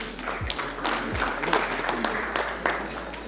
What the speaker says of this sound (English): Please give them a hand of applause